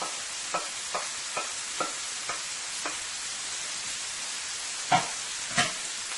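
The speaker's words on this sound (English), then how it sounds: "you're going to go ahead and add your garlic" Garlic added to a pan for creamy chicken alfredo tortellini, a steady faint sizzle with a series of light stirring clicks and taps of the spoon against the pan.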